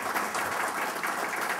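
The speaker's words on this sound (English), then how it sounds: "So warm round of applause." An audience applauds at a cybercrime symposium, a dense, even patter of many hands clapping at once, steady and full throughout the short burst.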